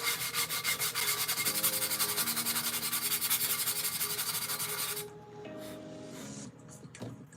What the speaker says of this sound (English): Apologizing in advance, loud sanding noises.